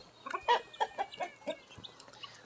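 Chickens cluck in a quick series of short, throaty bursts, fairly close, with a faint steady hum underneath.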